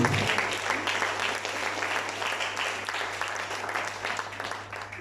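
A church congregation claps together during a French-language sermon, a dense steady wash of applause that starts abruptly and holds for several seconds before easing slightly, with a low hum underneath.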